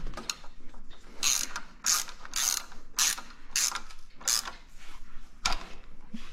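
A ratchet wrench with a 17 mm socket turns a bolt while work is done on an M62 engine, giving about six quick bursts of close, crisp ratcheting clicks in a regular rhythm.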